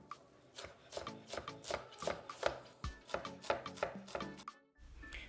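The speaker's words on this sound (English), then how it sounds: "We got a perfect mince on the ginger" A kitchen knife rapidly minces fresh ginger on a cutting board, with close, crisp chopping taps coming in quick irregular bursts. The run ends in a short pause, then one last soft tap.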